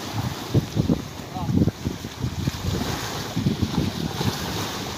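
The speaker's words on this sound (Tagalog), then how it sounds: "Kahit medyo mahangin, mga kapit, medyo maalon." Gusty wind buffets the microphone while waves slosh and splash around a moving fishing boat at sea, the surges rising and falling in uneven bursts.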